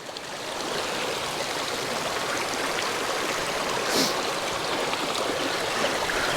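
River water flowing steadily through a gorge at the Blue Waterholes, a constant broad rushing wash with no voices, unchanging from start to finish.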